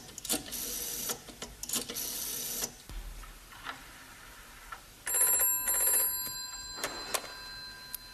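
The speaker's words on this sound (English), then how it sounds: "I go and phone hospital to see how is Mr. Brown" A telephone call is placed to a hospital in a sitcom scene, with clicks and whirs of a rotary dial, a short burst of ringing, and a tinny tone on the line, all quiet and close.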